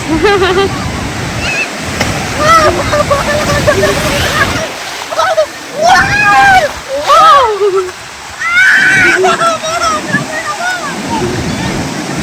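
Sea waves wash in at Mypadu beach near Nellore, a steady loud rush of surf and splashing water that carries on throughout while someone talks over it.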